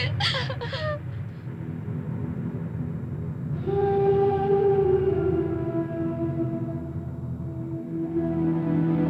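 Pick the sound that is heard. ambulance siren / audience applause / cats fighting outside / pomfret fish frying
ambulance siren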